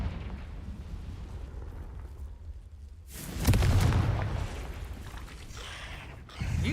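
A fire spell explosion, Confringo, bursts in Hogwarts Legacy during a fight beside a dragon, a loud booming blast erupting after three seconds of low rumbling ambience, then fading into a roar.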